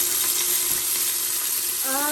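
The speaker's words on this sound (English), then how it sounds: "giving it a quick stir. And I will saute it for 30 seconds" Ginger and garlic paste sautés in a pan for a meat pulao, giving a continuous close sizzle with a faint quick stir, while a brief tonal sound enters at the end.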